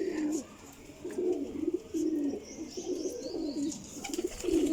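A Sialkoti pigeon cooing up close in repeated low throaty phrases, with short pauses between them and faint chirps from other birds behind.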